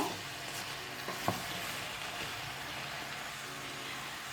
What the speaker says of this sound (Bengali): এখন এই মশলাসহ সবজিটাকে নেড়ে এটা ঢেকে রাখতে হবে কষানোর জন্য